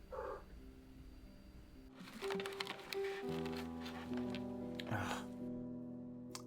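A pet cat making soft vocal sounds, with brief meows and gentle purring mixed with rustling and a tonal background, fairly quiet and close.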